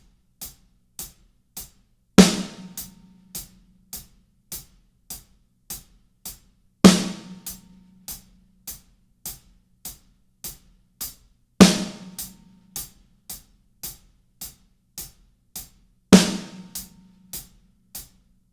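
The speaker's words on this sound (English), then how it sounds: "So with the hi-hat and the snare drum together, it would sound like this." A beginner rock beat played on drum kit, steady closed hi-hat ticks with a louder snare hit landing at regular intervals, four snare strikes across the pattern, close and clean with no talking.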